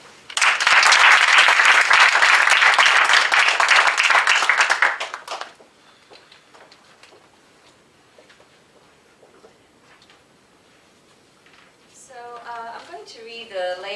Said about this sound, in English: Please give a wonderful round of applause to Lucy Prosco.